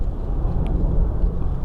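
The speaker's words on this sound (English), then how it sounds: "Sorry for the plane noise" Distant airplane passing overhead during an early-morning deer bowhunt, a faint low rumbling drone that holds steady without any voices.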